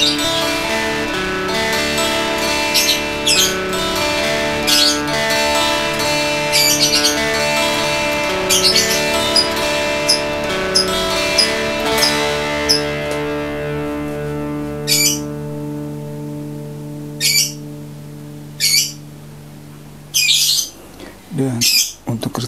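An electric guitar plays through a Boss DS-1 distortion pedal: a thick, buzzing distorted chord rings out and slowly decays, followed by short, sharp, choppy stabs separated by silence.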